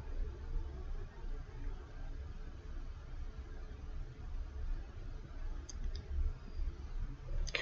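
Computer mouse clicks, a few sharp isolated ticks late on over a steady low background hiss while someone works through a website.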